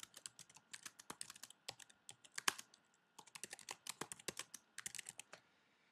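Text typed on a computer keyboard: quick, close clicking keystrokes in bursts with brief pauses.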